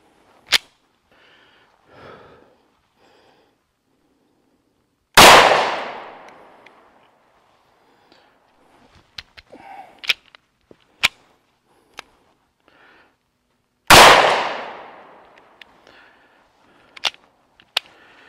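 Two loud, sharp gunshots about nine seconds apart from an ATI Moxie FXH45 hybrid 1911 .45 pistol, each ringing out with a long decaying tail, with small metallic clicks and handling noises in between.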